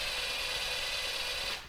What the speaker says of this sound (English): I hold my knee against this hose clamp when I'm tightening it.